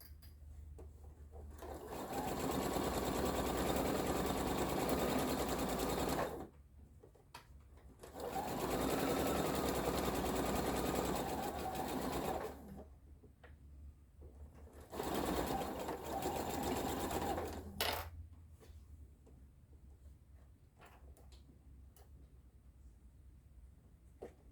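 A sewing machine stitches quilt star pieces together, running in three loud sustained bursts separated by brief pauses, close by, with no talk over it.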